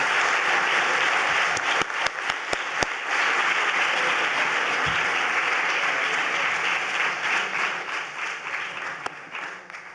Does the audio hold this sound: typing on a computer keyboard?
no